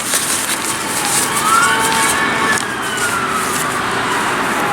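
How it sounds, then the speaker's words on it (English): Several ambulance sirens sweep past outdoors in a wilderness area in Israel, their wailing tones rising and falling steadily and loudly against a constant background of traffic noise, with no talking. "Wow, a lot of ambulances going through."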